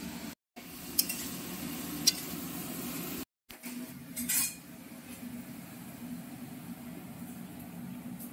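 Potatoes frying with turmeric, salt and spices in a pan, a low sizzle broken by clinks of a metal spoon against the pan and a stirring scrape, with brief cuts in between.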